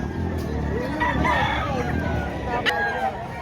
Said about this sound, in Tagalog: 6 yung kanyang manok mga boss